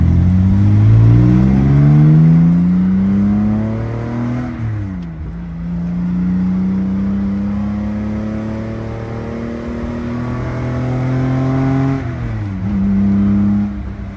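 A 1962 Aston Martin DB4 Series IV pulls up an on-ramp, its engine revving hard through the gears, pitch climbing steadily, dropping at each shift, then rising again, loud and close from inside the car.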